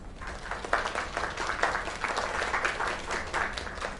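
Steady audience applause fills the room after a singer's performance, dense clapping from many hands holding at an even level throughout with no voices standing out.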